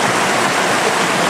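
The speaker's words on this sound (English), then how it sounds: "there's the river" A river flowing outdoors, a loud, steady, broadband rush of water heard up close with no pauses and no voices.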